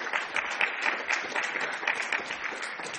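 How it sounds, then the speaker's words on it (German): Applause from a panel discussion audience, dense steady clapping of many hands filling the room at moderate level with no talk over it. "Applaus"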